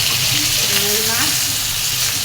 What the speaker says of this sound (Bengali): এখানে মাছ ভাজতেছি